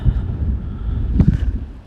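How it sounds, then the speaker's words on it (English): Steady blustery wind buffets the microphone outdoors in the middle of a town, with a low rumbling roar and a stronger gust surging briefly near the middle. "It's so windy!"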